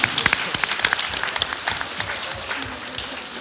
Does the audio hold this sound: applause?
yes